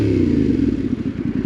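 A Yamaha Tenere 700 Rally motorcycle idles close by with a loud, throbbing low engine rumble, rough and steady, at the start of a test ride.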